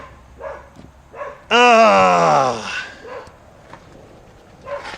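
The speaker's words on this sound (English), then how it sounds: "Dog's losing her mind." A dog barks loudly up close in one sustained, strained outburst while a FedEx delivery arrives at the front of the house, with people murmuring quietly before and after.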